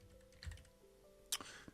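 Someone types on a computer keyboard in short, light bursts of scattered keystrokes, quiet and close, with a few sharper clicks near the end and no talking.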